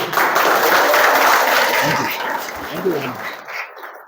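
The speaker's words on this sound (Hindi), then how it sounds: "ताली बजाइए इनके लिए।" Dense applause from an audience, many hands clapping together at full strength, thinning out and fading in the last second with a few scattered claps and faint voices underneath.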